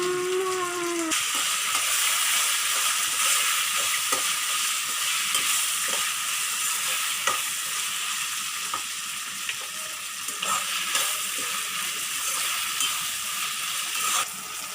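Brinjal (eggplant) frying in oil in a pan, a steady bright sizzle with scraping stir strokes at intervals, close and continuous throughout with no talking.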